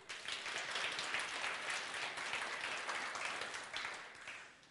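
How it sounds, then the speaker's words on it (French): Church congregation applauds together in a steady wash of many hands clapping, fairly distant and soft, sustained for several seconds before tapering off. "Par applaudissement, ceux qui profitent du soleil et du beau temps."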